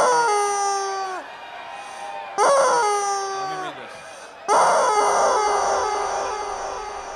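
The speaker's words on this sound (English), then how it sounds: "Squeeze low, you will hear him scream." A rubber screaming chicken toy squeezed three times, each squeeze letting out a long, loud, wailing squawk that trails off, with brief pauses between.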